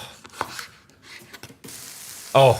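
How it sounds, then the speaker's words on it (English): Bacon being cut on a board in a kitchen: a few sparse knife chops and taps, close and fairly quiet, followed by a short loud burst of a voice at the end. "Let's cut the bacon"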